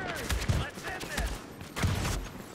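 Gunfire bursts in The Division's Dark Zone firefight on PC, with repeated shots and low thumps blending with shouting voices in a chaotic, busy mix.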